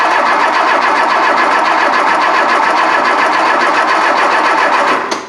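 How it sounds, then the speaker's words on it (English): A Volvo 340 left abandoned for 25 years cranks on its starter with a steady, loud, fast mechanical churning that runs continuously for about five seconds, then drops off. "So yeah, we're going to start cranking now."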